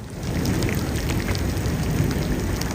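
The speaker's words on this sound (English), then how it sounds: "This is a wonderful rain." Steady rain falls in Iowa during a dry spring, a dense, even hiss of drops striking surfaces close by, continuous with no voices.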